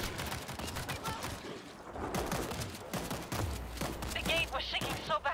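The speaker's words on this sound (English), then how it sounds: "Automated turret is active." An automated turret in the World War Z video game fires rapid bursts amid dense battle noise and explosions, with voices shouting over the din.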